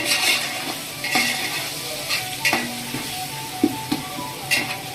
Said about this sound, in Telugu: మొత్తం అంతా ఒకసారి కలుపుకోవాలి.